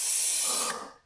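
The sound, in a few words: spraying lubricant on garage door springs with wide sprayer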